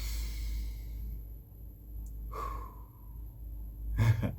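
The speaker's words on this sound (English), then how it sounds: "That one is a deeper breath where you really have to go deep into your breath" A single deep diaphragmatic breath drawn in slowly and audibly, followed by a quieter exhale and a short sharper intake near the end, close and soft with no talking.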